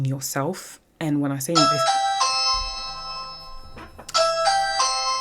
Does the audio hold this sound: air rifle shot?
no